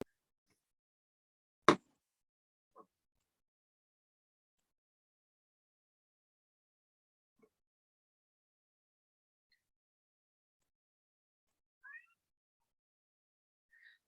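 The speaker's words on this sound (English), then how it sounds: "One of the cats is coming to visit. I can hear him." A house cat lets out a few faint, short meows from across a quiet room, spaced well apart, after a sharp nearby knock.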